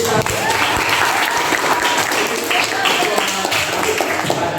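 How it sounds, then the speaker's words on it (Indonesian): A classroom of students claps together in a dense burst of applause that stays loud and sustained for several seconds, with some voices mixed into it. "Oke, tepuk tangan untuk"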